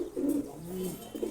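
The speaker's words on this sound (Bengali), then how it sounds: "এই ধাপটিতে আরও অনেক কবুতর আছে" Domestic pigeons in a loft, including Giribaz and racer birds, give soft, throaty coos close by, with several rolling calls overlapping in quick succession and no talking.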